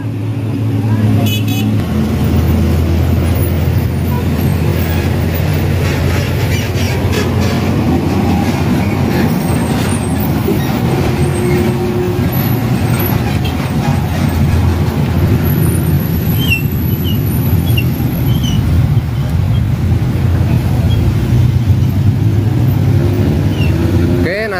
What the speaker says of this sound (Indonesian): Lihat kondisi arus lalu lintas yang begitu padat.